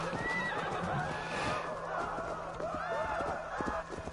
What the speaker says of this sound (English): Horse, get back here.